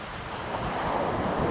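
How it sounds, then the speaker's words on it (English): Ocean waves breaking in shallow water off a surf-fishing beach, a steady broadband rush with wind noise, fairly close and without talk. "the waves break, it's when where it's shallow."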